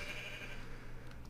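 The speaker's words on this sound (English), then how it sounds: "It was a cyan sheep." A single short sheep bleat from Minecraft, played with the Aether mod, sounds steadily at a modest level with no talking.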